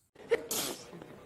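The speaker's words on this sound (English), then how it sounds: "How Koreans sneeze" A single sharp sneeze, short and close, with a quick intake followed by a hissy burst of air.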